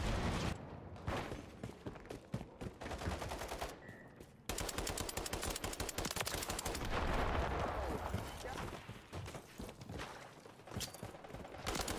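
Machine gun fire in the video game Modern Warfare III, hardcore mode: long, rapid bursts of automatic shots, broken by a brief pause and some clicking mechanical sounds, fairly close and steady.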